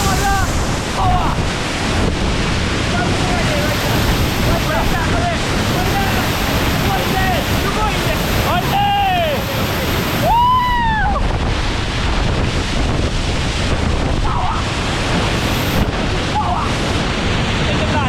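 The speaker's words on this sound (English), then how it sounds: "Waterfall time." Rushing water from Rabacca Waterfall on St. Vincent roars in a loud, steady wash mixed with wind buffeting the microphone, while people call out and whoop over it.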